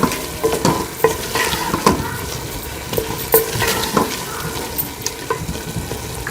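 A spoon stirs a sizzling vegetable biryani mixture with carrots in a hot pan, repeated scraping strokes over constant frying crackle, close and loud.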